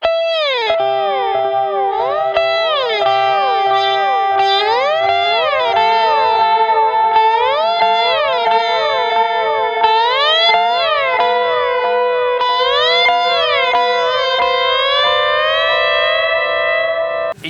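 An electric guitar with a sustainer circuit holds long, unbroken notes that glide and bend, one note flowing into the next with no pick attack. The tone is siren-like and heavily effected with chorus and distortion, loud and continuous, playing a song.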